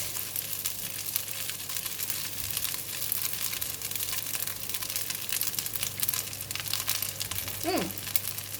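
Vegetable fried rice with egg and kailan being stir-fried in a pan, giving a steady, close sizzle and crackle that runs throughout, with brief scraping near the end.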